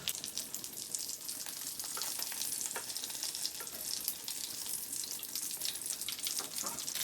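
Bread pieces sizzle and crackle in hot oil for an iftar snack, a steady, close, busy frying hiss with scattered pops throughout and no talking.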